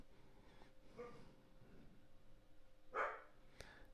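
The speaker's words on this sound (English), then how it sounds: "That's my dog, my hair monster dog," A shedding long-haired dog barks once, a short, fairly loud bark standing out from low indoor background noise, with a fainter yip shortly after.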